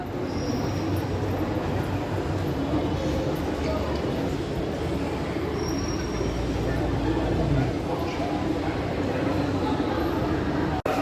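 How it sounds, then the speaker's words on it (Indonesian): An MRT subway train rumbles through Blok M BCA station in Jakarta, a loud, steady low roar of rolling wheels with faint squeals, filling the whole stretch with crowd noise underneath. "akan masuk di jalur 4 stasiun MRT Blok M BCA tujuan Bundaran HI"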